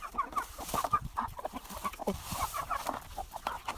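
Chickens in a rice field cluck busily at feeding time, several birds close by making a steady stream of short, overlapping clucks with no talking.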